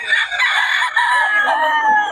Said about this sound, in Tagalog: Solid mga manokis ni Boss Steve